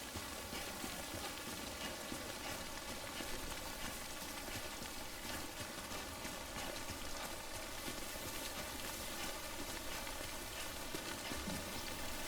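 Timefall rain in Death Stranding falls steadily and evenly, a soft, dense hiss of drops on surfaces that carries on alone without a break.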